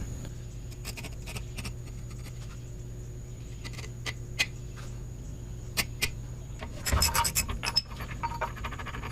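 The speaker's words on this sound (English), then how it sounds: "I'm just gonna carefully scribe around it." A scribe scratches around a steel patch piece held against the rusty undercarriage of a Bobcat 334-G excavator. Faint, intermittent scratching and ticking sits over a steady low hum, with a short burst of louder scraping near the end.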